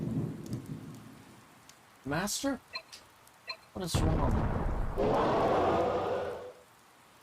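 Steady rain and a thunderstorm in the video game Saviors of Sapphire Wings, a broad wash of rainfall swelling loud in the second half, with thunder-like rumbles and brief game voice lines speaking over it.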